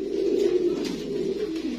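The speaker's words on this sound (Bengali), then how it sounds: "এখানে খুবই সুন্দর একটা কবুতর দেখতে পাচ্ছি" A pigeon of a fancy breed coos close by in one low, continuous rolling phrase, soft and steady with no voices over it.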